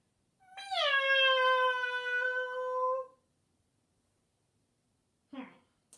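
A person's voice imitates a cat's meow, producing one long, clear, harmonic mew as a dog character in a storybook reading, followed by a brief soft noise.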